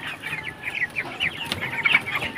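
Chickens on a poultry farm cluck steadily and continuously. The flock is 19-day-old broilers weighing just over a kilogram, and the clucking is close and busy with no speech over it.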